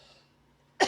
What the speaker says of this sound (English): Still got this cough a little bit